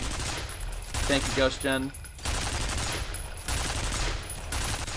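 Turret gunfire in the horror shooter F.E.A.R. keeps up as a dense, steady rattle for the whole stretch, with a voice speaking briefly over it near the middle.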